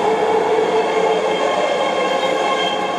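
A train rumbles steadily past at close range, a continuous loud roar of wheels and carriages with a faint high squeal riding on top, on the Denver airport line into downtown Denver, Colorado.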